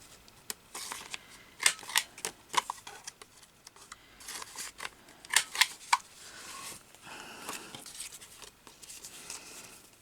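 Scissors snip through paper while a journal is made, with a series of short, crisp cuts in irregular bursts, close and quiet, and no talking.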